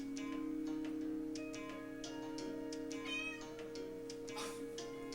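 A domestic cat meows indoors with drawn-out, wavering calls, close and clear over a steady background hum.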